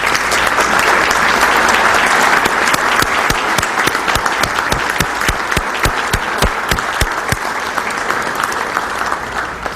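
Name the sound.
applause for hospital team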